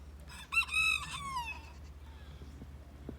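Rooster crowing on a Texas farm during a snowstorm, one clear, fairly close, drawn-out cock-a-doodle-doo with rising and falling harmonics, followed by fainter clucks and farmyard sounds over a low steady hum.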